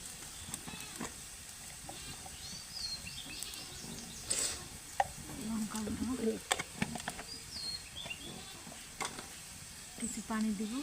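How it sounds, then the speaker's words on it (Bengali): Sliced onions, browned, and chillies fry in a pan, a soft, continuous sizzle with intermittent crackles and stirring clicks, fairly faint, with quiet background voices. "এখন আমি ভাজতেছি মরিচ দিব, পেঁয়াজ ভাজতেছি"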